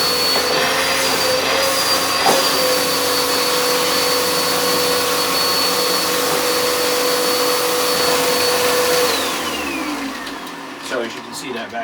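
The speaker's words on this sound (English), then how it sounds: "that vacuum is now working really nice" A Bissell Cleanview upright vacuum cleaner (1831) runs with a steady, loud whine and roar, then winds down near the end as a voice speaks over it.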